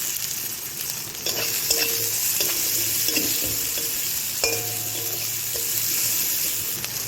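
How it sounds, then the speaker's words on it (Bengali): Steady sizzling of onions frying in oil previously used for frying fish, with intermittent scraping and stirring clinks throughout. "এখন আমি এই মাছ ভাজা তেলের মধ্যে পেঁয়াজগুলো দিয়ে দিলাম।"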